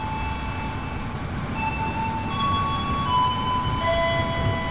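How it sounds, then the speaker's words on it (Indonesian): The Jatiraja train pulls out of Cibendung station in a railway video game, with a continuous rolling rumble of rail wagons and steady tonal whines from the motors that rise slightly in pitch as it gets under way. "Kereta api Jatiraja berangkat dari stasiun Cibendung, tujuan akhir stasiun Patani."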